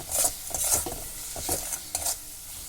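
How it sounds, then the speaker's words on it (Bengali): Spice paste with chilli powder and salt is stirred and fried in a pan while cooking jackfruit curry, with scraping strokes against the metal over a soft continuous sizzle, close and moderately quiet. "ভালো করে নাড়াচাড়া করে কষে নিলাম"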